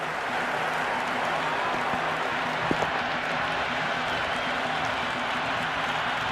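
Stadium crowd in the cricket video game Cricket 26, a steady dense roar of cheering and applause held at a constant level throughout, with one brief sharp knock partway in.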